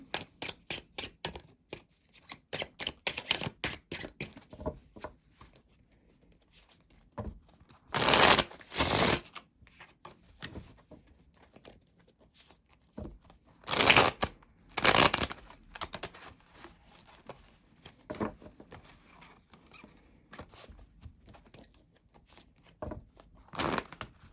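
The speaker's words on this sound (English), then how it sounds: "We're gonna shuffle." A deck of tarot cards is shuffled by hand in bursts of quick riffling flicks, with several loud close riffles spread through a quiet room.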